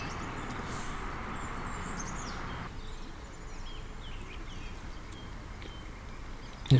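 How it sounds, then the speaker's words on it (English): Steady broadband roar of heavy motorway traffic near a lake on a cold winter morning, a constant distant wash with faint bird chirps above it and a brief louder bump at the end. "Can't avoid the heavy traffic in the background because it's near the motorway"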